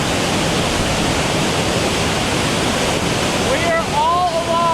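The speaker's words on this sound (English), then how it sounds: "We are all alone at the bottom of Havasu Falls right now." Havasu Falls in the Grand Canyon sends out a constant, loud rushing roar of falling water, close and unbroken, and a brief voice rises over it near the end.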